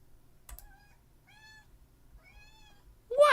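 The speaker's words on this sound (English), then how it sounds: "You can't come in here meowing like that and not come see me." A cat meows three separate times, each call clear and fairly close with short pauses between them, in an otherwise quiet indoor room, and a louder sound cuts in at the very end.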